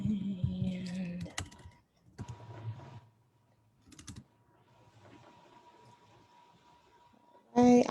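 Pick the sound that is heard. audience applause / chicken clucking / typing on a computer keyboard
typing on a computer keyboard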